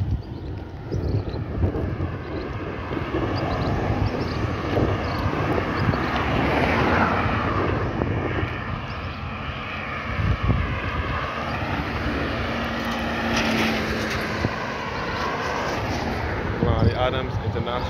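Broad outdoor ambience at Grantley Adams International Airport in Barbados, with a steady roar of aircraft and wind rumble throughout, heard while walking around the site.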